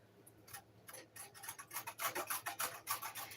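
Close by, a carrot is grated on a kitchen grater, giving rhythmic rasping strokes that begin sparse and faint and grow quicker and louder, with no speech.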